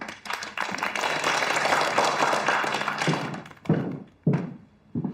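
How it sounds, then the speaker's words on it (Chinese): Audience applause greets a performer called onstage for a magic-style act, a dense wash of clapping that holds for about three seconds, then breaks into a few loud, separate thumps. "鼓掌。"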